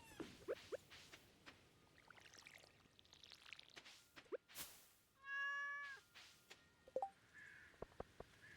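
A cat meows during a Stardew Valley video game cutscene, one drawn-out meow sounding alongside soft game effects, clicks and faint background music.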